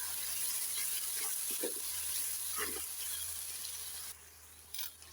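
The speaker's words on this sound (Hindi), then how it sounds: "अब हम ये तीनों चीज़ें प्याज के अंदर ऐड कर देंगे और 1 से 2 मिनट तक इनको अच्छी तरह से भूनेंगे" Onion, ginger and green chillies sautéing in a pan for green chilli chicken: a steady close sizzle with a few soft stirring scrapes, quieter near the end.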